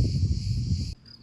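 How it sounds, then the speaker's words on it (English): A cricket stridulates in a continuous high, rapid chirping trill, close and clear, that cuts off abruptly near the end. "makes that cricket stridulation sound that we associate with summer nights"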